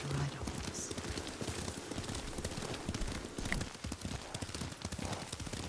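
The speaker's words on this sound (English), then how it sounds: "Lord Sakai taught me to ride a horse." Horse hooves clip-clopping at a steady riding pace in the Ghost of Tsushima video game, continuous and fairly close, with dialogue spoken over the hoofbeats.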